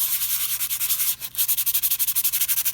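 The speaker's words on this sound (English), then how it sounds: "just give it a bit of a sand so that the texture paste has something to stick to" A surface is sanded by hand before texture paste goes on, making a rapid run of rhythmic scratchy strokes, close and fairly loud, with one short pause midway before the steady back-and-forth rubbing resumes.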